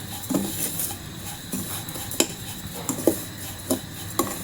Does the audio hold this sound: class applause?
no